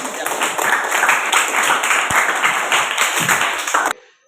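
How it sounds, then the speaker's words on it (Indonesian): A class gives a student a round of applause, a brisk burst of many hands clapping in a room that holds steady for about four seconds and then cuts off abruptly. "Tepuk tangan untuk Adi."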